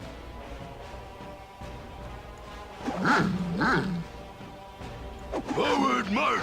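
A war dog in the Baldur's Gate video game barks and growls in a few short bursts, moderately close, amid background game sounds.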